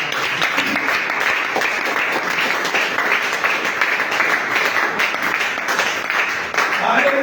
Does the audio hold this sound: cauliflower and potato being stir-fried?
no